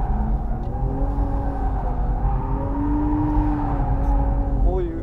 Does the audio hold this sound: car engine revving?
yes